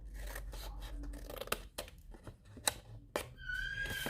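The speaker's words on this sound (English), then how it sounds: "So we're going to cut up this one here, give it a trim at an angle." Scissors trimming card at an angle along score lines while making a slider box: a few quiet, crisp snips and paper rustles with short pauses, close and faint.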